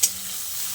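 Marinated soya chunks hitting a very hot wok: a short, steady frying sizzle, close and fairly loud, with no speech.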